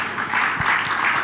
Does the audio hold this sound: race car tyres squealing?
no